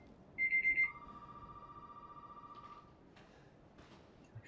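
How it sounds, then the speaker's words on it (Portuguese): A telephone in the video game Resident Evil 7 rings, a short burst of electronic warbling pulses followed by a long steady tone, clear over faint background hum. "Tem o telefone tocando, vamos ouvir."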